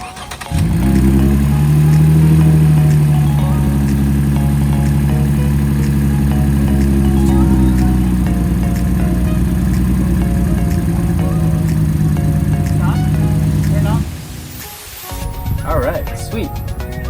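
A car engine fitted with an oil catch can starts and settles into a loud, steady idle with a strong low hum. After about fourteen seconds it drops away, leaving quieter clicks and handling noises.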